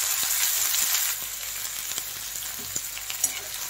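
Dried chilies and a large onion frying hard in a pan for lauki chana dal, a loud steady sizzle with a faint scrape of stirring, alone with no talk.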